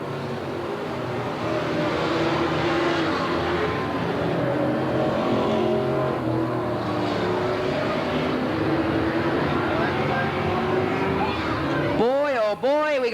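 Race cars roar continuously around the Willamette Speedway oval during a close battle for the lead at a 1989 P.O.S.S.E. race, with a loud, steady engine drone under an announcer's voice and a brief rising tonal sweep near the end.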